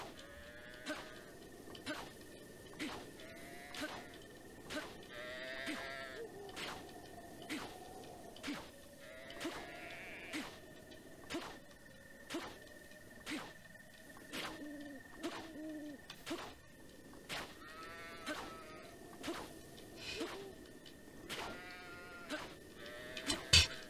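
Sheep in Zelda: Breath of the Wild bleat again and again across the scene, wavering game-animal calls over a steady ambient bed with regular clicking beats, at moderate loudness and with no talk.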